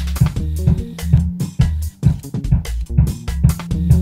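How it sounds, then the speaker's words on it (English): A soloed EZdrummer kick drum track plays back in Cubase as a fast, driving pattern of punchy, booming low thumps with sharp attacks. It sounds loud and close throughout, with no talking. "say for example, I just wanted the kick to render."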